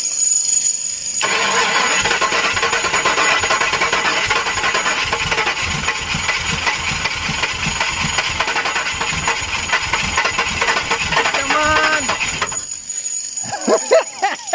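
A carbureted Ford Mustang GT V8 in an abandoned Foxbody convertible under restoration, cranking steadily with a rhythmic starter whir for about eleven seconds, sputtering as if trying to catch, then stopping; a voice follows briefly.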